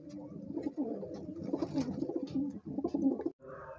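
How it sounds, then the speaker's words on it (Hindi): Pigeons coo in low, throaty warbling calls that overlap continuously, fairly close, in a loft or rooftop flock, with brief pauses near the end. "ये सारे कबूतर आप लोग देखिए"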